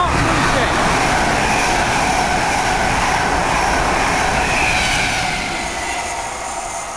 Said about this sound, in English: Just thundered its way through Needham Market, on its way to London.